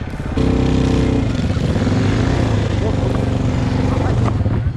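Enduro motorcycle with an asphalt setup and metal tank riding along a village road: a loud, close engine rises in a steady rough drone and holds throughout, with brief gear-change shifts in pitch.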